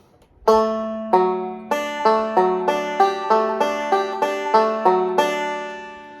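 Bluegrass banjo picking a short D lick, bright plucked notes in a steady rolling backup rhythm, each note ringing and decaying, played alone and close.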